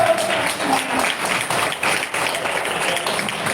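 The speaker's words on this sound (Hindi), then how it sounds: "तालियां बजाइए एक बार" Church congregation clapping during a Hindi-language worship service, a dense moderate patter of many hands, with a faint voice at the start.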